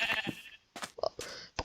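Several short sheep bleats from puffy sheep in the Aether dimension of a Minecraft-style game, coming as brief separate calls with gaps of quiet between them, moderately loud and close.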